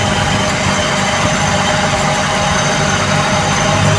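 A Toyota 2E carbureted engine idles steadily after the RPM is set, a loud, even, close rumble with a constant low drone and no voices.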